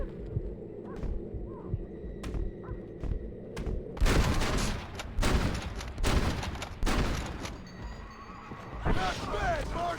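Gunfire in the Red Dead Redemption video game, a series of loud, sharp shots crackling from about the middle of the clip over a busy ambience of horse whinnies, with shouted voices nearby.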